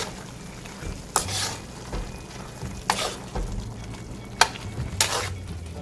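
A spoon stirs brown sugar into pork sari-sari in a hot pan, giving four or five sharp scraping strokes spread over a low, steady sizzle, close by with no voices.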